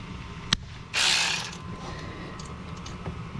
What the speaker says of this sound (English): I'm going to go ahead and put a 7 millimeter onto a 3/8 adapter, so that way I can use my electric ratchet.